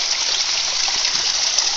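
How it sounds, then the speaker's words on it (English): A natural mountain stream near Hiawassee, Georgia flows in a steady, close, full-bodied rush of water with no pauses, bright and hissy throughout. "this is the first really good stream of water I've had."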